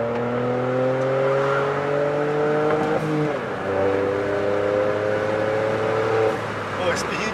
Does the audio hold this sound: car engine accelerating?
yes